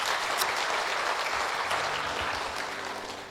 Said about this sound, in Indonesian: tepuk tambah kaum Bapak dulu.